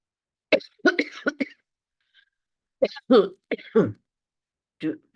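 A person coughs in several short, sharp bursts close by, with a brief pause before another round of coughs.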